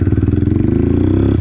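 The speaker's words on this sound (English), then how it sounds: "So if it sounds like the engine's dying, it's bogging, that's a good sign that your dirt bike is running too lean." A dirt bike engine running lean and bogging, a loud close, low pulsing engine throb with steady rhythmic firing and a slight drop in pitch toward the end.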